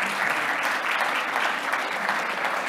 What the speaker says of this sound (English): let's give a round of applause and a thank you to the staff here at Hutton House